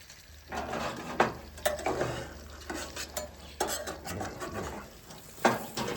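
An omelet cooking in a new carbon steel skillet at a camp breakfast, with a small spatula scraping and tapping against the pan in short bursts over a soft, low sizzle, close and alone.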